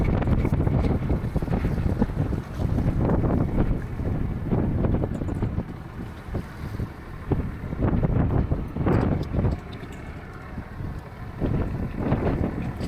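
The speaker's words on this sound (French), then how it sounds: "il y a du vent." Gusty wind buffets the microphone aboard a 46-year-old sailboat at sea, with rough low rumbling surges of wind and waves rising and falling throughout.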